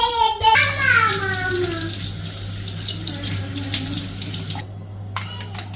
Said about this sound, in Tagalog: Hugasan lang natin kung ayaw natin ng medyo maalat.